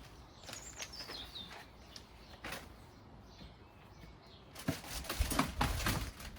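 Small garden birds chirp at a feeder stocked with mealworms, with faint scattered tweets and calls early on and busier, louder chirping and fluttery rustling near the end, all outdoors with no talking.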